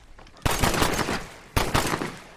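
An automatic gun in the Red Dead video game fires two loud, close bursts of rapid shots, each a dense rattle of about a second with a short gap between them.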